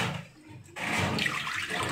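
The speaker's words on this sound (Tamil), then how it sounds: "இப்படி கழட்டும்போது தண்ணி வரும்" Water gushes out of a Bosch washing machine's drain filter as it is unscrewed, a brief pause followed by a strong, close splashing flow.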